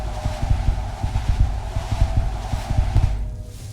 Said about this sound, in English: Maybe it's the heartbeat sound.